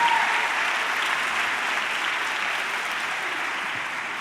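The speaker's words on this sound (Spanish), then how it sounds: "un aplauso para María" Sustained audience applause at a Galician reading clubs' conference session, a dense steady wash of many hands clapping that fades slightly over a few seconds, with no voices over it.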